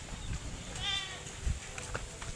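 Goats bleating in a farm goat pen, a few wavering calls close by over rustling and faint background noise.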